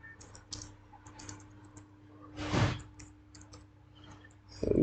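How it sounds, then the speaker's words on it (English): Clicky keys tapped on a computer keyboard while designing a mobile app screen, a few quick scattered keystrokes at close range, then a louder thump near the end. "just type forgot password."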